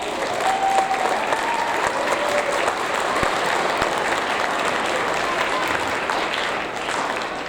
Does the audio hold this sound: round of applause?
yes